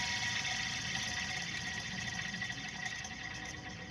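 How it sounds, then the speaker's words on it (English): A dry wheel bearing on a 2002 Chevy S10 spins freely, giving a continuous whirring, grinding drone with a faint metallic ring, steady and close without speech. "But you can tell by the noise the bearing's dry."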